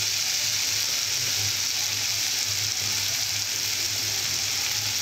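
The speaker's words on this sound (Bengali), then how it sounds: "আলুগুলো ভেজে নেব।" Potatoes frying in a pan at home: a steady, even hiss and crackle of oil that stays constant and close throughout, with no talking.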